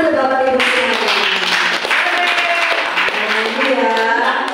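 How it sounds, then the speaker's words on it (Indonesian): A roomful of teachers claps during a classroom presentation on positive discipline, sharp close hand claps mixed with loud overlapping voices talking and calling out. "Tepuk tangan untuk Bapak Ibu sekalian."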